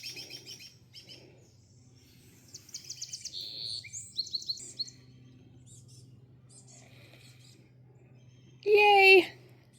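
A wild bird calls from up in a tree, with a few thin chirps and a quick twittering run. Then comes one brief louder call, over a steady low background hum.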